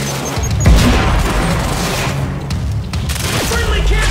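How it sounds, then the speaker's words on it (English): A grenade blast and bursts of gunfire in the shooter game Quantum Break, a loud, dense, continuous barrage with heavy low rumble throughout, mixed under occasional speech. "Grenade out!"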